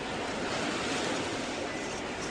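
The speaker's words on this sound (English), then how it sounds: "Guess it's the waves rolling in." Ocean waves rolling in on a beach make a steady, dense broadband wash of surf noise that fills the whole moment without pause, with no voices.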